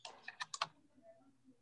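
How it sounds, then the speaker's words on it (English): Quick burst of computer keyboard typing picked up over a call microphone: five sharp clicks in a fast cluster, then faint low background murmur, no talk. "when you're typing, I got to mute you, brother, because we can hear you"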